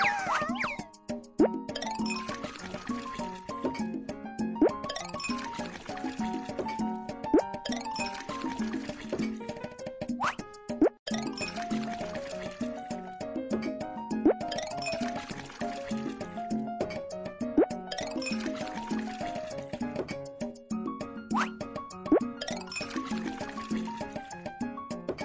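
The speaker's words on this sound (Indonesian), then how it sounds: "Tiap botol menyimpan jumlah air yang berbeda-beda. Dan suara saat mengetuk tiap botol juga berbeda-beda." Water-filled bottles holding different amounts of water are tapped in a BabyBus kids' game, giving bright plinking pitched notes that form repeating melodic phrases, each note clear and evenly spaced.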